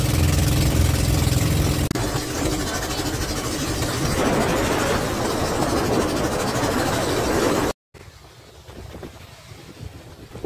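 Loud, steady engine roar of a boat on a tri-island hopping tour around Siargao, droning continuously with heavy wind buffeting the microphone, then cutting to a quieter stretch of engine noise near the end.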